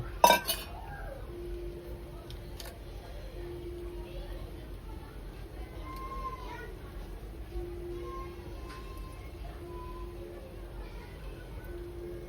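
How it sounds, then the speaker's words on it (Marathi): A sharp metallic clank at the start as a metal lid is set onto a cooking pot of dhaba-style Malvani chicken, followed by quiet kitchen ambience and faint clinks. "झाकणी याच्यावर पूर्ण बंद ठेवायची आणि झाकणीवरती ठेवायचं आपल्याला पाणी"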